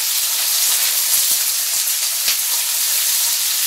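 Langoustines and onions sizzling loudly in a hot pan, a dense continuous hiss close to the listener with a few faint knocks of stirring.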